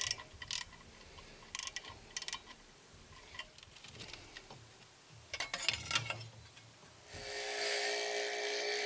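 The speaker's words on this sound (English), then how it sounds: "I'm using a bench grinder with a wire wheel" A bench grinder with a wire wheel cleaning corrosion off a car ignition mounting bracket: harsh metallic grinding in short bursts, then a steady high whirring whine near the end, close by and without any voices.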